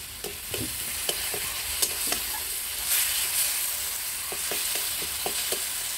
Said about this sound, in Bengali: তো যাক, এই মশলাটা ভালো করে কষা হোক, তারপরে জল দিয়ে মাছটাকে ফুটিয়ে নিই।